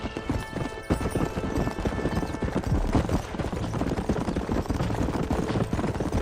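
Horse hooves gallop in a steady clip-clop rhythm through a Red Dead Redemption game scene, loud and continuous, with an occasional whinny and scattered distant gunfire behind them.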